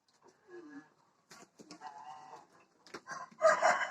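A rooster on a village farm in the Odesa region of Ukraine crows nearby in several bursts, with clucking between calls and the loudest crow at the end.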